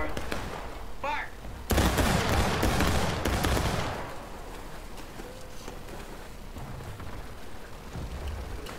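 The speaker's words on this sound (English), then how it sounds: "24, take aim! 24, fire!" In the War of Rights video game, an infantry line fires a rifle volley as a sudden loud crackling burst of many shots, followed by scattered distant gunfire, with voices heard before.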